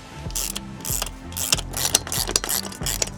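A ratchet wrench tightens the mounting feet of a Vantech H1 ladder rack on a RAM ProMaster van, with close, loud bursts of rapid clicking broken by short pauses as the handle swings back and forth.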